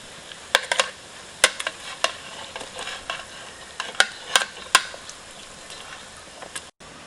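A pot of water with pork bones bubbles and crackles steadily, with scattered sharp pops and ticks of utensils near at hand, no voices.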